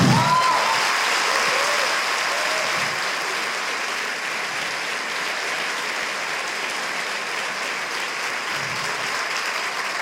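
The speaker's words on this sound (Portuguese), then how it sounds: "Nós podemos aplaudir a Ele por isso" Church congregation breaking into strong applause during a sermon, dense clapping that starts loud and settles into a steady, even wash of hands for the whole stretch.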